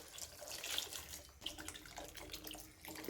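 Water is poured into a pan of lemons for a spicy lemon pickle, a steady splashing, gurgling stream heard close and fairly quiet, with no talking.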